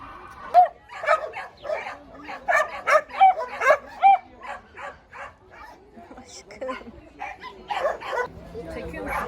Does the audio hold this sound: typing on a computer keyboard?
no